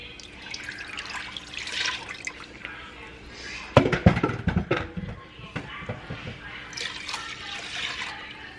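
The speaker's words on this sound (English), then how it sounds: "Okay, so we drained all of the yucky chunks out of our broth." Chicken broth is drained through a strainer, giving faint trickling and sloshing, then a louder burst of splashing pours and drips in the middle before it settles back to a quiet trickle.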